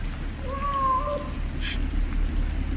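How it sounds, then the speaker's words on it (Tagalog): A single drawn-out cat meow, faint and somewhat distant, over a steady wash of heavy rain and low rumble. "tunog ng pusa"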